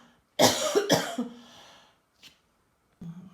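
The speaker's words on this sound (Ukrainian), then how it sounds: "Вибачаюся, щось кашляти почала." Two hard coughs close together, followed by a raspy exhale, a faint sound, and the start of a voice at the end.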